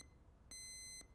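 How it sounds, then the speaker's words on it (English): A bell alarm in the video game Lorelai gives one brief, bright electronic ring of about half a second, faint and alone against quiet background hiss. "It's the bell alarm. Someone just pressed it by mistake."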